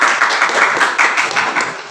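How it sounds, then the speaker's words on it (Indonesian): A classroom of students claps for a classmate, steady rapid clapping from many hands held at an even level throughout, with no talk over it. "Tepuk tangan untuk teman kalian."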